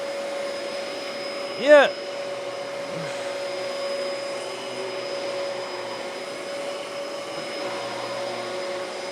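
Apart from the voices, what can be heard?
thrifted Dyson vacuum cleaner running on low pile carpet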